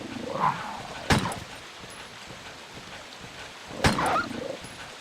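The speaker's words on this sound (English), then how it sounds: "There's enough dogs here." Dogs in the Resident Evil 1 video game give two short barks a few seconds apart, with faint whimpering and yips between them, fairly quiet over a dim background hum.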